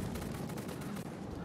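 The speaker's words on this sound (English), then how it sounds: "I'm trying to shoot behind." Rapid, dense video-game gunfire fills the whole stretch as an unbroken rattle of shots fired while running, loud and continuous with no talking over it.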